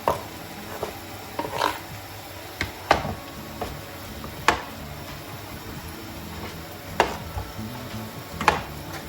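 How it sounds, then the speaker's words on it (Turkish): A knife chopping tomatoes on a cutting board, sparse sharp taps at irregular intervals, close and fairly quiet against a steady low background hum. "Şimdi domateslerimizi doğrayalım."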